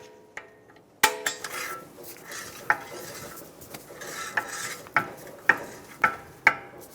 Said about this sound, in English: You can hear the shoes scraping inside.